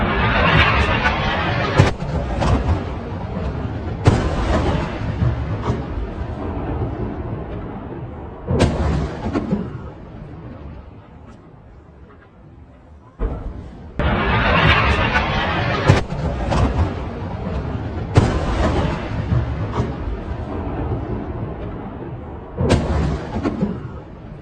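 Explosions from Israeli airstrikes on Hezbollah sites in Lebanon, heard as repeated heavy booms and rumbling blasts with rolling echoes, loud and close, mixed with shouting voices and crowd noise.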